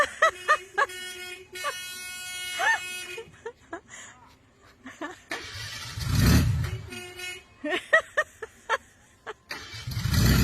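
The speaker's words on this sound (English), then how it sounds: "there was a short in the column that kept making the horn go off" A 1973 VW Monster Beetle's horn going off by itself from an electrical short in the steering column, with repeated short honks and toots at close range in between stretches of engine noise and people talking.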